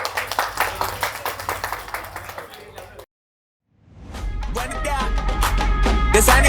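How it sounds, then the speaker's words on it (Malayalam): Audience clapping for a couple at a Madhuram Veppu ceremony in Adoor: a burst of close, brisk applause that cuts to silence, then upbeat music comes in. "ഈ ഒരു ബ്യൂട്ടിഫുൾ കപ്പിൾസിന് വേണ്ടി ഒരു കൈയടി കൊടുക്കൂ"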